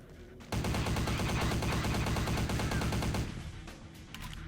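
Automatic gunfire from a low-ammo weapon in the Vampire: The Final Nights game, a loud, rapid continuous burst of shots lasting about three seconds, then stopping abruptly and leaving quieter background noise.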